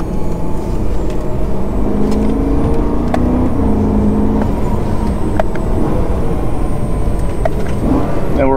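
A supercharged 2011 BMW E90 M3 pulls hard on a public back road, a loud close engine drone with rising tonal whine and gear changes running steadily throughout.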